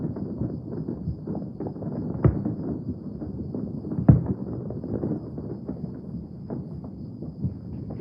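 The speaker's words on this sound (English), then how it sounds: "Fireworks are still going off here in Tucson, Arizona." Distant Fourth of July fireworks in Tucson, Arizona, with irregular low booms and occasional sharper bangs rolling over a steady night-time background, no voices present.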